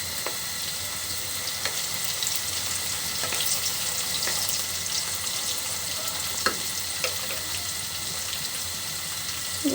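Whole cumin seeds crackle in hot oil, a dense continuous sizzle with scattered sharp pops and occasional light utensil taps, steady and close with no talking.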